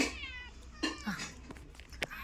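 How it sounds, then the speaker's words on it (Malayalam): Several house cats meow up close in a quiet home, a few short cries overlapping with soft rustles in between. "നമുക്കിവിടെ കുറച്ച് പൂച്ചയുണ്ട് കേട്ടോ"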